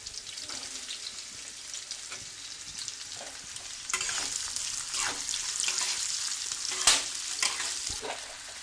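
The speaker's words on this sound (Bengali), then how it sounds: "কড়ার তেল গরম হয়ে গেছে, এবার আমি তেলের উপরে দিয়ে দিচ্ছি পেঁয়াজ কুচো" Chopped onions hit hot oil in a wok and fry with a steady, crackling sizzle, close and continuous, swelling louder midway with occasional sharp pops and stirring scrapes; no voices.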